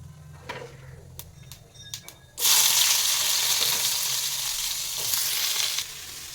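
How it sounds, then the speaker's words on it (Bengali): Teasel gourd hits hot oil with salt and turmeric, bursting into a loud, steady sizzle after a few light clinks, the frying hiss holding strong close by before easing slightly at the end. "এই যে কাঁকরোলটা দিয়ে দিচ্ছি, এবার লবণ আর হলুদটা দিয়ে ভাজা ভাজা করি"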